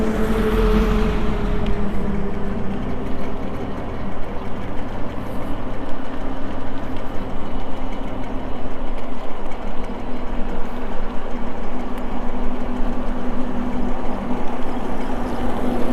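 Tata Contino ETB10 electric cycle riding on throttle alone with no pedalling, giving a steady continuous whirr of motor and road noise, with a rising whine through the opening seconds.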